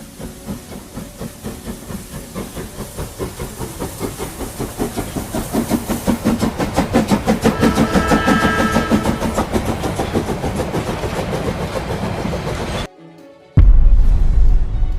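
A steam locomotive chugs steadily with rhythmic puffs and hissing, building in pace, then a brief hush before a loud blast of steam.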